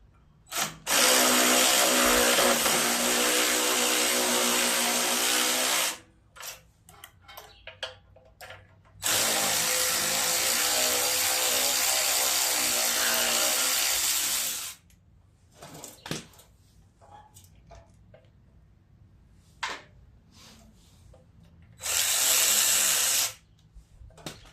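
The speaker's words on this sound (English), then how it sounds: "we're going to get these bolts off here for the carburetor. They're 10mm." A power tool whirs in long bursts while removing 10mm carburetor bolts on a 6 horsepower Troy-Bilt rear tine tiller, three sustained loud runs separated by quieter pauses with small clicks and handling noise.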